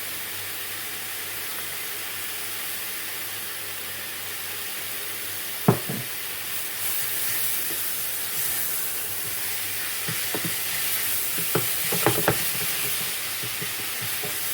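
A Polish vegetable stir fry with pepper and salt fries in a pan, a steady low sizzle and hiss running throughout with a few brief clinks and stirring knocks near the middle and end.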